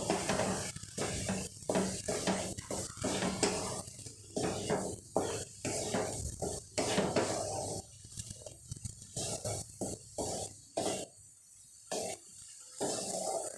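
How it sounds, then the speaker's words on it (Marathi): Soaked soybeans being sautéed in a pan, a continuous sizzle with frequent rhythmic stirring scrapes, fairly quiet and steady throughout. "सोयाबीन चांगलं परतून द्यायचं सोयाबीन परतले आहे"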